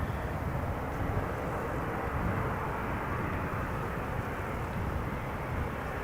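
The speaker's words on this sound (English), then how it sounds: "In the foreground we have KLM flight 741 arriving from Cartagena." A KLM Boeing 787-9 Dreamliner arrives at Amsterdam Schiphol Airport, its steady, broad engine roar holding at an even level throughout, with no voices over it.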